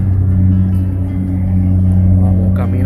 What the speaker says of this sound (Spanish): están los carros cruzando,